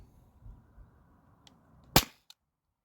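A Umarex air rifle fires a single steel ball bearing: one sharp, loud crack stands out after quiet low rustling, followed by a faint brief tick a moment later.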